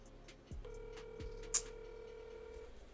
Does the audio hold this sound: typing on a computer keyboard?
no